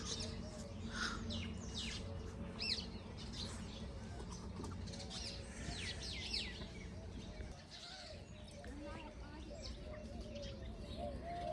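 Birds being fed grain in the morning chirp and tweet in a busy scatter over a steady outdoor background, with wing flaps and soft cooing, and a voice talks underneath.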